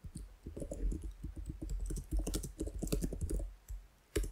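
Close, rapid clicking of keys on a computer keyboard, an irregular rattle of quick taps with brief pauses and a louder final keystroke.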